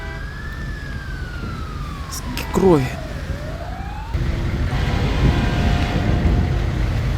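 An ambulance siren in the video game LSPDFR wails and sweeps up and down, with a brief spoken line and a rising rumble of engine noise.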